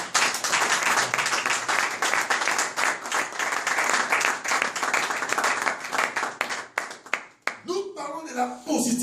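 A church congregation applauding during a Sunday service, dense sustained clapping from many hands that thins out into scattered claps and voices near the end.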